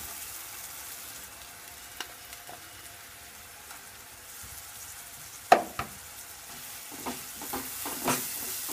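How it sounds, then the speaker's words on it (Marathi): Onion and coconut paste fries in hot oil with a low, even sizzle, broken by a few sharp spoon knocks against the pan and stirring scrapes toward the end. "चांगलं असं तेलामध्ये परतून घ्यायचं।"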